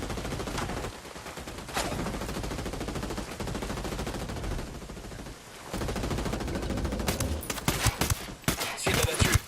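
Gunfire against enemies in Ghost Recon Wildlands: sustained rapid automatic bursts, loud and dense, with short pauses, then sharper, more separated shots near the end, and no speech over it.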